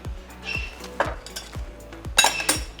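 Metal utensils clinking and scraping against a pan and dish while serving freshly fried spinach karahi, several sharp taps and clatters in an irregular rhythm, close and alone with no talk.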